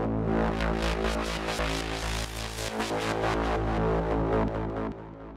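An acid-style sequencer synth lead with reverb added plays a dense, buzzy, pulsing pattern of repeated notes over a steady low drone. The sound is sustained and even, washed in a reverb tail that fades out at the end.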